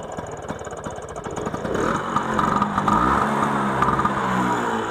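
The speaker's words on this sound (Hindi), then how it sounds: "फर्स्ट टाइम स्टार्ट कर रहा हूँ बाइक है" A modified 1980s Bajaj Super scooter engine starting up, a rough close putter that swells into a louder, busier running note partway through, with no speech over it.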